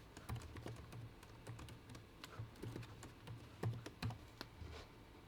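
Code being typed on a computer keyboard: quiet, irregular bursts of key clicks and taps, close by, with no talk.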